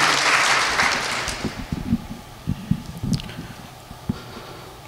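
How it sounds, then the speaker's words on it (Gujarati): A satsang audience applauds the speaker: a loud wash of clapping at first that thins into scattered, uneven claps and fades toward the end. "તો એકવાર જોરદાર તાળીઓથી આપણે પરમ પૂજ્ય વક્તા મહોદયને વધાવી લઈએ"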